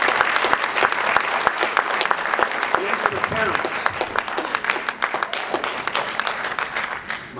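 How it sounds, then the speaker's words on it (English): At a high school scholarship night, an audience gives a sustained round of applause for graduating seniors and their parents, a thick, even crackle of many hands, while someone speaks briefly over it. "Let's have a round of applause for them."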